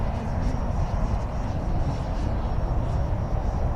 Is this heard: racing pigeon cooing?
no